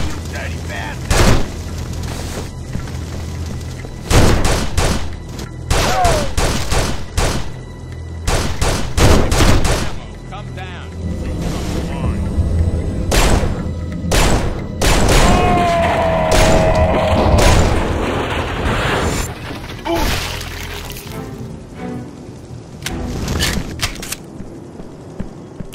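Gunfire in the video game Urban Chaos: Riot Response: loud, close shots and rapid bursts crack in an irregular barrage, with booms and crashes mixed into the noisy action throughout.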